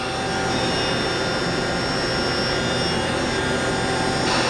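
A Haas VM3 CNC vertical machining center runs with its spindle at 7,500 RPM, making a steady, even high whine with sustained tones over a constant mechanical hiss, close and unbroken.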